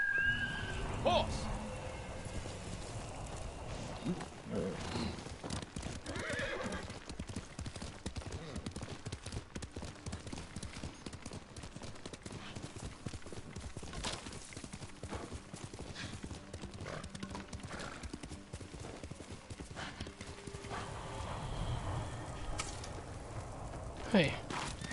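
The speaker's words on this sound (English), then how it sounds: "Horse!" Hooves clip-clop in a fast continuous rhythm as a horse gallops in Ghost of Tsushima, with a brief whinny near the start and game music and sound effects underneath; a voice talks at times.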